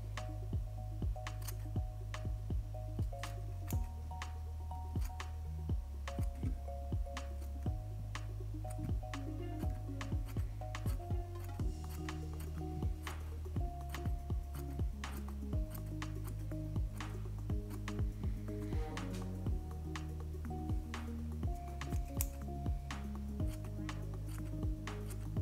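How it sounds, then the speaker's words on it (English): Long sharp scissors trimming the spun head of a baitfish fly at a tying bench, giving repeated crisp snips and small ticks in an irregular rhythm, close and quiet over a low steady hum. "get your long scissors, nice and sharp ones, and then just start trimming away"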